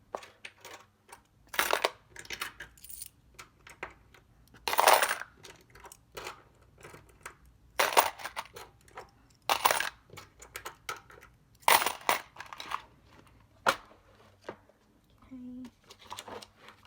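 Coins dropped one after another into a plastic card organizer, with sharp metallic clinks in irregular bursts over about seventeen seconds, close by, and a voice talking in between.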